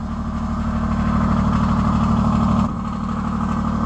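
A tractor engine idles steadily and loud up close, a constant low rumble that drops slightly in intensity near the end, with no voices.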